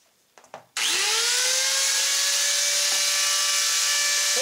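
A power saw blade cuts through a clamped bar while fabricating a transfer case mount plate for a 1955–59 Chevy/GMC Napco 4x4, starting after a couple of brief knocks and then running as a loud, steady, whining cut to the end.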